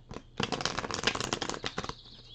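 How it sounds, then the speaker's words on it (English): A deck of playing cards being shuffled by hand, a dense ripple of rapid papery flicks lasting over a second, close and fairly loud, framed by brief rustles before and after. "Pray one day I'll be able to shuffle cards like a blackjack pro"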